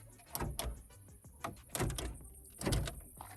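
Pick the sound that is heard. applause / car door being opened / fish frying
car door being opened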